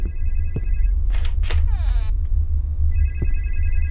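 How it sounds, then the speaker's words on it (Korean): A telephone rings in a hotel, two short electronic ring bursts separated by a pause, loud and close over a low steady hum, with brief other noises in between. "전화 온다"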